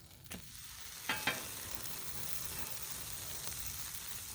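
Spam and cheese sizzle on a hot griddle with a steady broadband hiss, broken by a few brief crackling pops near the start, and no talk over it.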